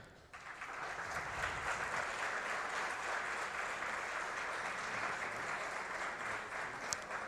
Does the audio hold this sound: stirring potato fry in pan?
no